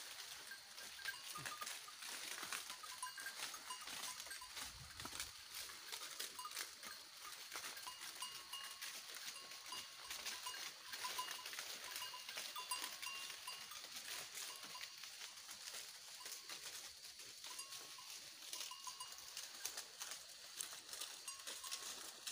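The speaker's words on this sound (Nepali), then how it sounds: "फेदमा चाहिँ बाख्राले घाँस खाइरहेको छ" Goats graze in a grassy hillside forest, with soft tinkling of bells under a constant hiss of outdoor ambience, faint and distant throughout.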